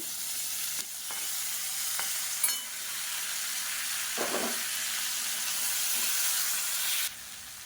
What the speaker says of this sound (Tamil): இப்போ தக்காளி ஓரளவுக்கு வதங்க ஆரம்பிச்சிருச்சு.